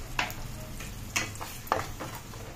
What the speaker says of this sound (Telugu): ఇలాగ మనకి ఆయిల్ తేలినట్టు టమాటా మొత్తం వేగాలండి